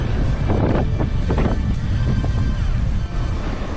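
Wind buffets a microphone while cycling along the Rhône on the ViaRhôna route, loud continuous low rumbling gusts with a few bursts, close and dominant throughout.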